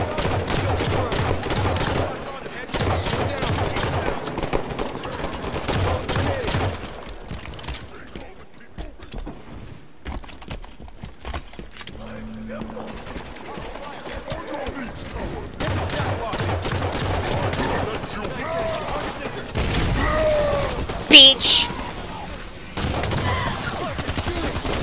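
Bursts of rapid gunfire and fusillades in Halo Firefight, loud clustered volleys that drop away to a quieter lull midway before heavy shooting resumes, with mechanical clatter mixed in.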